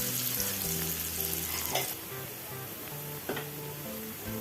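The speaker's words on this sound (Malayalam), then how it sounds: "ഇഞ്ചി വെളുത്തുള്ളി പേസ്റ്റ് ചേർത്ത് കൊടുത്ത് അന്ന് ഇളക്കി ഇനി അരിഞ്ഞ വെച്ച ഉള്ളി ചേർത്ത് കൊടുക്കാം" Chopped onion fries with ginger garlic paste in a pan for a Malvani chicken curry, giving a steady, even sizzle with a couple of soft stirring scrapes, with no one talking.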